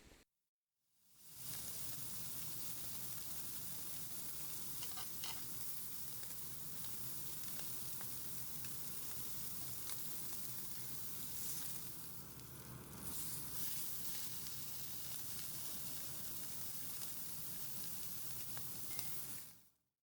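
Mixed vegetables, precooked in a microwave, fry in a pan with a steady, dense sizzle that runs continuously at close range, with faint stirring scrapes partway through.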